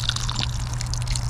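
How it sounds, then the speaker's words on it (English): Water splashes and trickles briefly as sweet potato slips are watered in a pot with no drain hole, a close, steady pour lasting about a second over a low background hum. "So let's go ahead and water it down."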